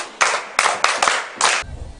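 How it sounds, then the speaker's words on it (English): Schoolchildren clapping at a school where classes are held in corridors, several short separate bursts of fairly loud group claps with brief pauses between them. "Okay, clap for yourself."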